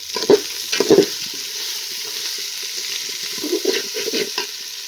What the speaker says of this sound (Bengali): সবজিটা দিয়ে ভালো করে নাড়াচাড়া করব